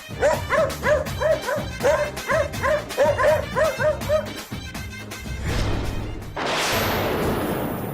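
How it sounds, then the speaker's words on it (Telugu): Dogs bark and yip in a quick, repeated, fairly loud volley amid dramatic background music in a Telugu TV serial scene, then the barking stops and a wash of noise rises. "దీని మీద మన కుక్కల్ని వదిలేయండి"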